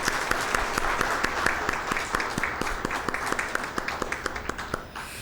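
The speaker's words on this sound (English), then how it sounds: "Can we clap for all four of them?" A convocation ceremony audience applauding, dense clapping from a crowd that stays steady, then thins to scattered individual claps as it dies out near the end.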